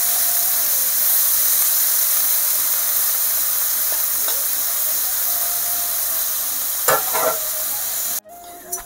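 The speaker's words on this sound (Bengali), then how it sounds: "রাতে আমি বেগুনটাও ভাজা করে নিচ্ছি।" Eggplant seasoned with salt and turmeric fries in a pan with a loud, steady hiss, and a few stirring scrapes come near the end before the sound cuts off abruptly.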